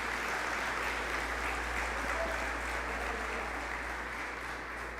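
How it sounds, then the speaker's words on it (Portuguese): Steady, sustained applause from a church congregation during a Portuguese-language sermon, a dense, even wash of many hands clapping at a distance that holds loud for the whole stretch without any speech. "Quem compreendeu, dá uma salva de palmas para o Senhor"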